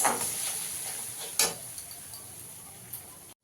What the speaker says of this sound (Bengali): এই ভালো করে মশলাটাকে একটু কষিয়ে নিতে হবে।